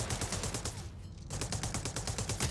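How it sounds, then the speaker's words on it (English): Sniper fire in The Division Resurgence, a video game: rapid, dense bursts of loud gunfire fill the clip, broken by a brief quieter gap before the shots resume. "We just got hit by a sniper."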